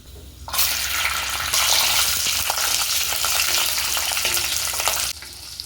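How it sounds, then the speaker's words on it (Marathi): Garlic sautéing with grated coconut in a hot pan gives a loud, dense, continuous sizzle close up, with faint stirring scrapes, starting abruptly and cutting off near the end. "ह्यातच आता आपण लसूण टाकून घेऊया म्हणजे तो पण छान असा परतला जाईल"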